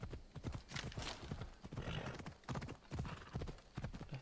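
Horse hooves clip-clopping at a trot in Assassin's Creed Odyssey, with steady rhythmic beats up close, a brief whinny, and light ambient outdoor noise.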